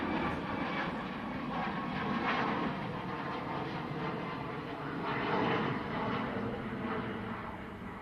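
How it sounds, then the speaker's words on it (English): Sustained roar of a Ryanair airliner climbing steeply after takeoff from Manchester Airport, a broad distant rumble that swells and fades slightly over several seconds, heard alone without talk. "Steep climb from the Ryanair."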